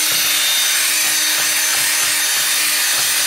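Steady scrubbing and rubbing on the rusty hub flange of a 2008 VW Passat rear brake, repeated abrasive strokes close by with no talking.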